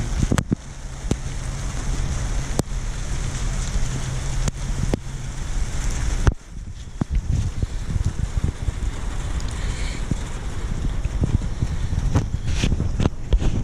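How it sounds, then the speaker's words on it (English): Heavy rain pours down outdoors as a loud, constant hiss with rough wind buffeting on the microphone. Occasional sharp clicks and knocks rise above the downpour. "y'all can see in here it's starting to rain"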